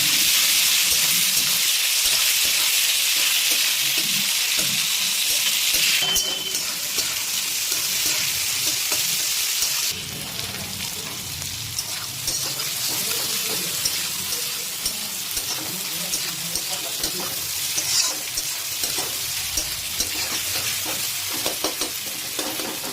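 Chopped onions fry in oil with cumin seeds and bay leaf, making a loud close sizzle with stirring scrapes. The sizzle eases to a softer, steady crackle partway through, and no one speaks.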